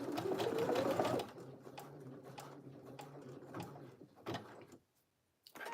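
A home sewing machine runs for about a second stitching a button onto a DIY trench-style jacket, a loud steady motor whir that stops abruptly, followed by faint clicks and handling noises in a quiet room.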